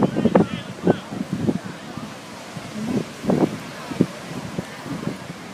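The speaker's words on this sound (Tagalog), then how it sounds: "Hangin." Steady wind gusts blowing and buffeting the microphone at Seal Beach, with people talking intermittently over the rushing noise.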